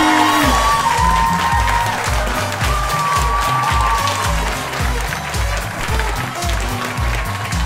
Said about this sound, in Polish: Dajcie mu wielkie brawa.